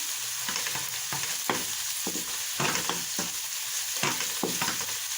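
Whole spices sautéing in a pan for a spiced cauliflower curry, with a steady sizzle and repeated scraping stir strokes at close range and no voices.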